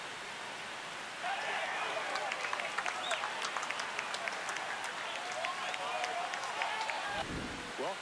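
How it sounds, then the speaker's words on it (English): A stadium crowd in the MLB The Show baseball video game cheers after a solo home run, a sudden swell of loud roaring and clapping that holds for several seconds before cutting off. "Here comes the crowd."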